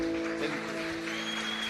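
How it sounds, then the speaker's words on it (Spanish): Applause from the congregation for singer Oscar Calderón at a Quechua Bible seminar in Santa Cruz, a steady wash of clapping that fills the whole moment, with a faint sustained tone running beneath it. "Vamos a obsequiar, como siempre, más aplausos a hermano Oscar Calderón"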